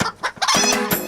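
Chickens cluck and a rooster calls in a loud, busy burst from a played novelty anthem called Rooster Nation, the fowl sounds stacked densely across about a second with no talking.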